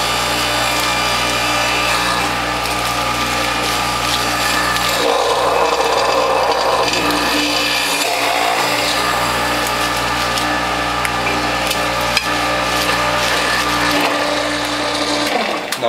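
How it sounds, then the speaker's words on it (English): A WHF juicer grinds spinach through its cutter and feed tube, a steady loud mechanical whir with a constant motor drone and a rough shredding texture throughout. "I'm going to start juicing with my spinach."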